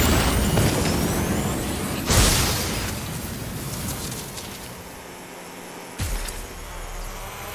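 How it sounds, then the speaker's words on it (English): Grenade explosions in Watch Dogs: Legion, two sharp booms about four seconds apart over a dense, noisy combat bed of crackle and rumble. "They're throwing grenades!"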